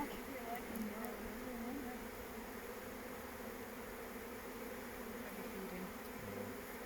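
Honey bees buzzing around a hive frame, a faint steady droning hum that continues throughout with no break.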